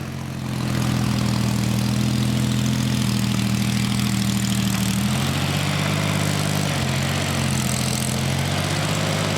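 Corvair car engine running steadily at low speed as the car is driven into a trailer after autocross racing, a continuous close rumbling drone with slight shifts in pitch partway through, with a bad-sounding differential.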